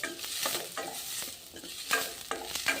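Onions frying in oil for onion chutney, stirred with repeated scraping strokes of a spatula against the pan over a soft continuous sizzle.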